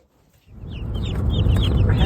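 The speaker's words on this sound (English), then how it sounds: "We're heading home from picking up our baby chicks for our meat birds." Day-old meat-bird chicks cheep and peep busily inside a cardboard box, a dense, continuous chorus of high chirps that starts abruptly and stays loud and close without any talking.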